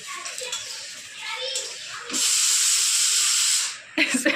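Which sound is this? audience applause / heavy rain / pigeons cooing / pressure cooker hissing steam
pressure cooker hissing steam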